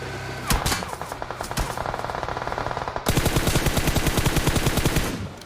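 Automatic gunfire in the mobile game PUBG Mobile, close rapid bursts of shots that rattle on steadily and grow denser partway through, with no speech.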